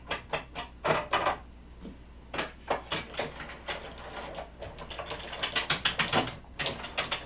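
The handle of a card-making die-cutting machine is wound by hand, giving repeated ratcheting gear clicks in quick bursts. The clicks come close together in some spells and spread out in others, with short pauses between turns.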